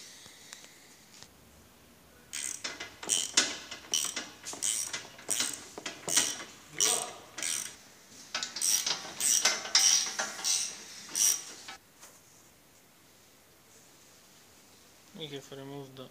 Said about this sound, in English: Now we are opening mountings for the radiator.